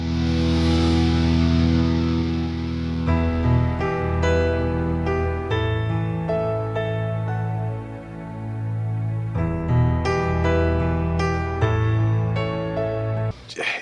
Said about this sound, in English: one of perhaps my favorite part of the entire song is his piano part in the bridge section, which I'll play right now